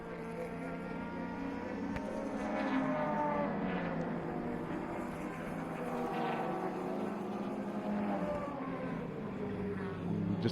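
A race car corners through a right-hand bend at a circuit during an endurance series race, its engine buzzing at a distance in a steady drone that rises and falls, fairly faint, with no talking.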